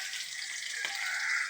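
Ginger garlic paste sizzles in a pan for fried rice, a short, even crackle with one light stirring tap.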